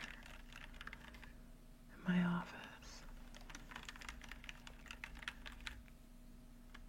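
Typing on a computer keyboard in an office, a quiet continuous patter of key clicks with one louder thump, heard under a man's speech.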